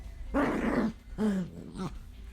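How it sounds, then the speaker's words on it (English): A playful pet dog growls in three rough bursts, the first long and the later ones shorter, close up with no talking over them. "He loves to growl when we play."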